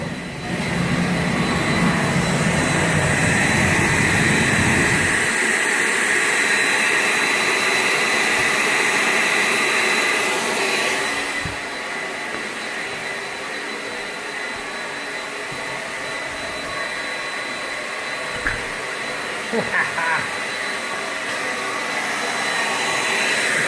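A homemade forge burner's flame gives a loud, steady roar for about ten seconds, then drops to a softer rushing hiss with a few scattered knocks and clanks nearby.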